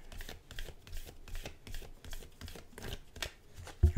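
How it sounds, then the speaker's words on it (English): Oracle cards being shuffled by hand in repeated short riffling bursts, close and fairly quiet, with a sharper knock at the very end and no talking. "let's shuffle one more time."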